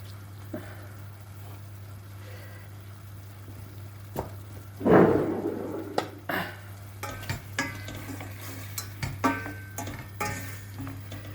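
Vegetables for a celery and quince dish sauté quietly in a pan while a utensil scrapes and clatters against it, with a steady low hum underneath.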